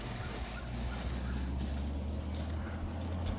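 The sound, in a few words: air conditioner running on inverter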